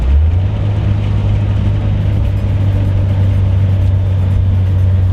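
A car fitted with K-Sport Kontrol Pro coilovers taken hard through a slow corner, heard as a loud, steady low engine drone with road and wind noise, close and continuous, without talk.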